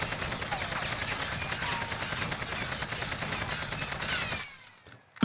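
An AK-47 Void Monster rifle in Warzone fires a long continuous automatic burst, rapid evenly spaced shots close and loud, stopping abruptly near the end with a last faint click and thump.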